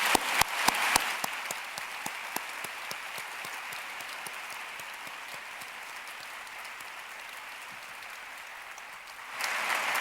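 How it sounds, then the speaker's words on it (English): A conference closing audience breaks into steady, sustained applause, a dense wash of many hands clapping that stays even for about ten seconds, with a few louder close claps at the start and a brief swell near the end. "let's give them all a round of applause"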